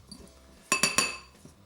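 Utensils clink against a bowl while ingredients are being mixed: three quick, bright metallic taps close together, then a fainter tap after a short gap, in a quiet room.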